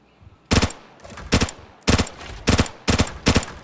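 An M16 rifle fires in the video game Arena Breakout, about six or seven loud, close bursts of rapid shots with short pauses between them. No one talks over the shots.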